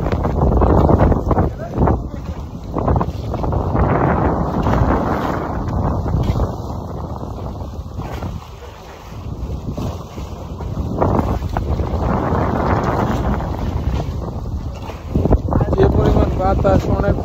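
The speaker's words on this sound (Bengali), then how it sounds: "প্রচণ্ড পরিমাণে বাতাস আর নদীর ঢেউ আর ঢেউ, নদী প্রচুর পরিমাণে উত্তাল" Strong gusting wind roars across the microphone aboard a boat crossing a rough, choppy river in light rain, a loud and steady buffeting with no voices.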